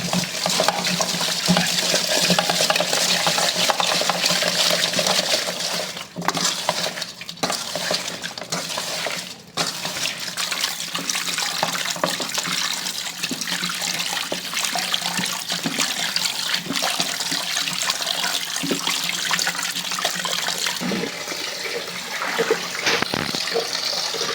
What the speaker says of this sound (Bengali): লবণ দিয়ে ভালো করে ধুয়ে নিব।